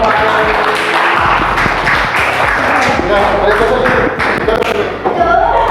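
A classroom of students claps for a presenting group, loose uneven clapping with thumps and taps close by, while voices talk over it.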